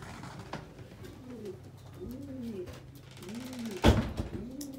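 Racing pigeons coo in a loft: repeated soft, rolling coos arriving every second or so, close by, with one loud thump or flutter near the end and a faint background hum.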